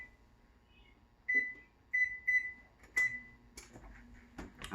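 A home oven's control panel beeping while being set to preheat to 400 on bake, a handful of short close electronic beeps, one pair in quick succession, followed by a longer tone in a quiet kitchen.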